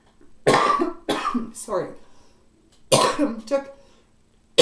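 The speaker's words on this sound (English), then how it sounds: "I took too deep of a breath and almost at the same time swallowed, if you've ever done that, and caused a coughing fit." A coughing fit after swallowing wrong while breathing in deeply, several harsh loud coughs in bursts close to the microphone, with a quick spoken apology between them.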